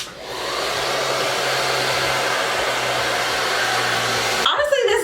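Hair dryer blowing steadily on the lace of a deep wave glueless wig, a loud close whooshing hum that holds for several seconds, then cuts off with a clatter at the end.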